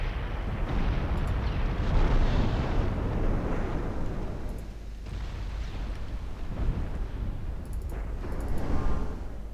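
Heavy shellfire explosions pound a warship in the naval game Ultimate Admiral Dreadnoughts, a dense continuous rumble of overlapping blasts with no gaps between impacts.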